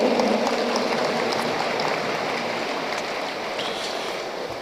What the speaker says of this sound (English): let us give her a round of applause of encouragement